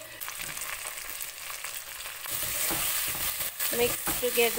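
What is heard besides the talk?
green chilies, mint and coriander frying in oil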